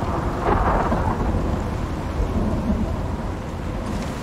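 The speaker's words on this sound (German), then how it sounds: "bis der Sturm vorbei ist, ne?" Thunderstorm with steady rain in the survival game Icarus, a dense, continuous roar of rainfall with low rumbling thunder throughout, loudest in the first second and holding close and heavy to the end.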